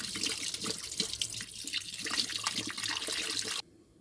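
Tap water runs steadily into a sink while a toothbrush scrubs a gopez fish-cleaning tool under the stream, splashing close and loud with uneven scrubbing bursts before the flow stops abruptly near the end.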